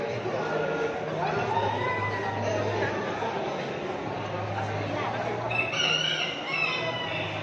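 A rooster crows nearby, its call rising clearly above murmuring voices and outdoor background noise.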